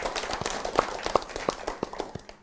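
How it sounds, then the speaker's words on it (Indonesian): An audience at a Lemhannas RI national-insight talk show in Bali claps to welcome a speaker on stage, a thin scattering of sharp individual claps that grows brisk and uneven, then fades out near the end. "Tepuk tangan ya hadirin sekalian"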